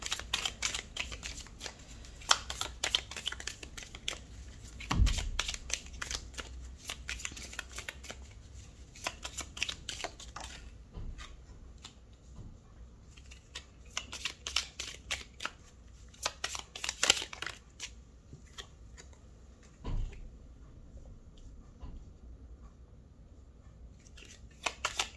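Tarot cards are shuffled and drawn by hand in a quiet room, with rapid riffling and flicking bursts and soft slaps as cards land, close and fairly faint, continuing for the whole stretch with no talking.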